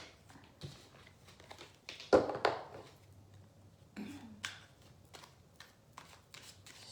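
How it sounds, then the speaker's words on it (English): Tarot cards are shuffled by hand in a quiet room, a run of soft riffles and taps with one louder snap of the deck midway, faint and close. "I'm gonna shuffle here"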